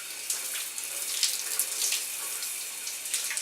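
Shower water runs steadily in a bathroom, a hissing spray with soft splashes and drips as someone does makeup under it, heard close and alone without talk.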